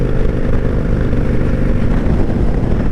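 Loud, steady rumble of a 1998 Honda Shadow 1100 motorcycle engine while riding, a continuous low drone with wind rush and no pauses.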